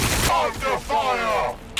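Bursts of gunfire in the Warhammer 40k Battle Sector strategy game, loud cracks at the start and end framing a stretch of speech, the shooting partly masked by talking.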